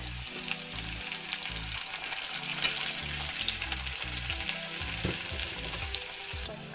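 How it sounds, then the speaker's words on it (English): Onion frying in mustard oil in a pan, a steady loud sizzle with occasional stirring scrapes, and no voices. "Now I will give the mustard oil again. I will fry the onion."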